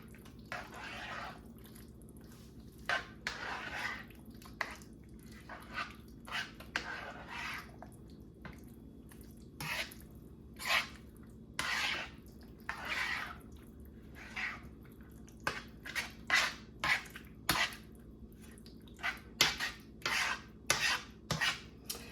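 Casserole ingredients and a cup of broth are mixed in a baking dish, giving a series of close, wet scraping and squishing strokes at an uneven rhythm with quiet pauses between them.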